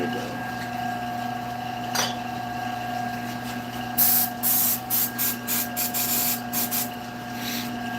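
A paint spray gun fires a series of short, sharp hissing bursts in quick succession, over a steady electrical hum and background tone.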